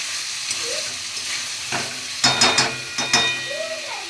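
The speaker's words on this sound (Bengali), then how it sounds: "এবার আমি এর মধ্যে দিচ্ছি গরম জল" Hot water goes into a pan of cooking prawns, bringing a cluster of sharp sizzling and hissing bursts with utensil scrapes after a quieter stretch of low frying noise, close by.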